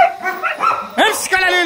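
A small dog lets out high, yippy barks and whimpering whines in several quick bursts, close and loud, mixed with someone speaking during a training session.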